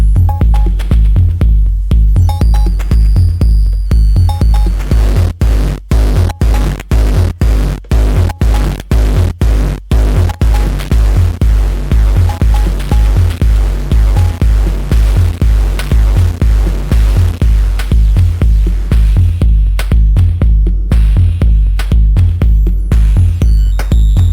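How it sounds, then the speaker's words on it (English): Loud, dense UVI Vintage Vault 4 synthesizer drone with a throbbing, pulsing rhythm, heavily distorted and smeared by echoing delay repeats, playing continuously without any voices. "See here, you hear that the delay, the distortion."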